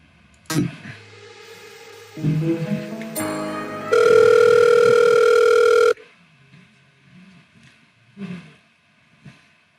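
A telephone dial tone sounds while phone calls are being made, with brief tones and buzzes and then a loud steady two-tone hum for about two seconds, followed by quieter low rumbling noises.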